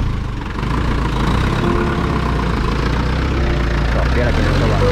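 A motorcycle engine with a mechanical fault idles steadily and close by, a constant low rumble running the whole time, with people talking over it.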